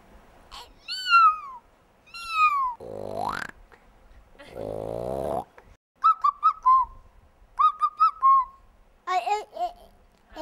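A voice produces a string of animal imitations, including drawn-out meow-like cries and squeaky chirping calls, in separate short bursts.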